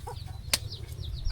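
Chickens in the courtyard of a rural farmstead on a Jamuna river char in Bangladesh, giving faint, brief chirping calls and one sharp burst over a steady low outdoor rumble.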